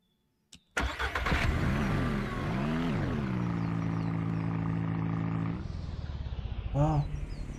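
A stuck vehicle's engine in the farming game Ranch Simulator starts with a thump, then revs hard in rising and falling surges before settling into a loud, steady drone that drops lower near the end.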